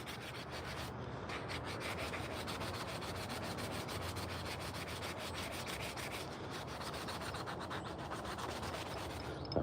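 Sandpaper rubs rapidly back and forth over a hand-carved wooden spoon, a close, steady scratchy rasp in quick even strokes, alone without talk.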